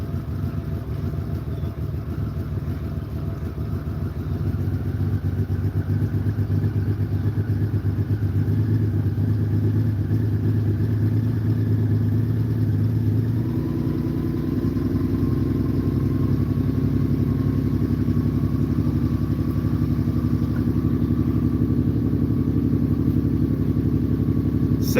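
A cold six-cylinder motorcycle engine idles on choke in a home garage, a steady low rumble that shifts to a slightly higher, rougher idle partway through, running alone without talk.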